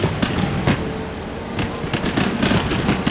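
Musket volley fire from infantry lines in Empire: Total War, loud overlapping bursts of crackling shots in ragged clusters, with sharp reports popping out near and far over a dense battle din.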